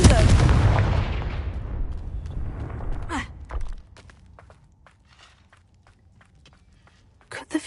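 A Confringo blast spell in the Hogwarts Legacy video game erupts as a loud, booming explosion whose rumble fades over about three seconds, followed by quiet scattered clicks and light footsteps.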